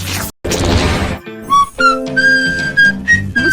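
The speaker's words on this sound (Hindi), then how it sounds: "मुझे अलग अलग धुनों पर सीटी बजाना बहुत पसंद है।" A person whistles a few short melodic phrases in clear, bright tones, hopping between pitches after a brief burst of clattering noise at the start, close and loud.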